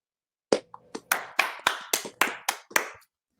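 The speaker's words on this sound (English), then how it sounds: "Let's clap it up for Rob real quick" A small group claps for a guest in a short burst of about eight sharp, close claps that stop after a few seconds.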